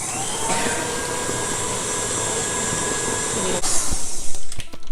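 An electric mixer whirs steadily through garlic mashed potatoes, a loud close motor hum that ends in a few knocks and scrapes against the bowl.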